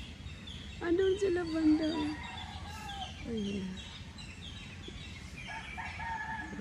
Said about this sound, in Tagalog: Ayun, nagsagutan yung mga ibon.